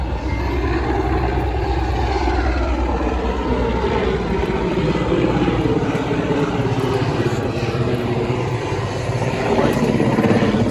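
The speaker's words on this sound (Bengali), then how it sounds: "ওই যে হেলিকপ্টার নামতেছে, দেখতেই পাচ্ছেন।" A helicopter comes down to land nearby, its rotor and engine roar broad and steady throughout, loud and unbroken.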